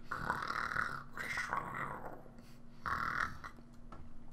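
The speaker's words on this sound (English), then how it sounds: "All zombie pigmen have extremely deviated septums, and they make a lot of noise when they snore" Loud, nasal snoring from zombie pigmen in Minecraft, three long rasping bursts with short gaps between them, close and alone with no talk.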